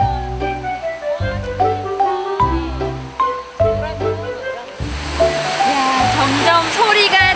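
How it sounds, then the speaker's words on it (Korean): A roaring waterfall on Jangsan mountain in Busan: a dense, steady rush of water that swells in about halfway through and continues under rhythmic background music. "조금만 올라가면 우렁찬 물소리를 들을 수 있습니다."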